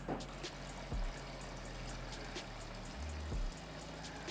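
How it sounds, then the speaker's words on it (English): Salt-water brine poured into a fermentation jar over packed vegetables, a soft continuous liquid trickle and pour with a few gurgling surges, quiet and close. "pour in my 4 cups of brine, which is just salt water"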